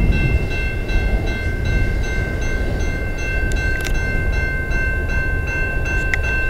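A CN freight train, L509, rolls past on the Dundas Subdivision in London, Ontario, its tail end going by with a steady, loud rumble of wheels and cars and a few sharp metallic squeaks, with no voices.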